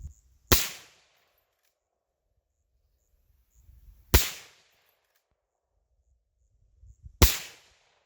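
Three suppressed rifle shots from a short-barreled Marlin Dark 336 lever-action, each a sharp loud crack with a quick decay, spaced a few seconds apart outdoors, with faint handling noises between them.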